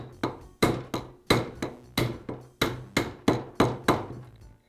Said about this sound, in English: I'll use the socket to tap the bearing into place